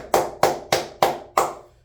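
One person claps five times, sharp and close, in an even unhurried rhythm with brief decays between the claps and no voices.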